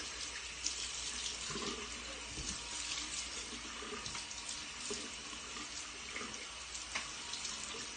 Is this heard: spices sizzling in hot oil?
no